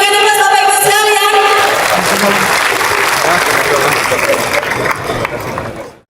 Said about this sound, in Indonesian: Kita berikan aplaus Bapak Ibu sekalian.